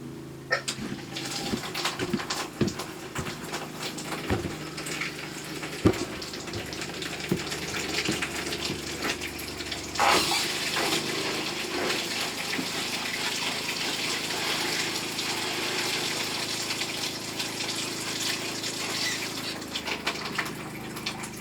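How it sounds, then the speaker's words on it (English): Water gushes steadily from RV faucets opened to bleed air from the lines. Near, continuous running water with spitting, sputtering bursts early on, then a steadier flow. "I know there's some air in the lines, so I'll have to open up a couple faucets to make sure to get the air out"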